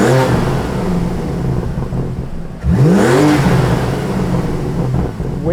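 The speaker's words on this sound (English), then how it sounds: "We're going to be opening the valves and hearing what these intakes sound like." A BMW M3 fitted with front mount intakes revs with its valves open. It hums at a loud, close idle, then swells into one sharp rising-and-falling rev and settles back into a rumbling idle, with nobody talking.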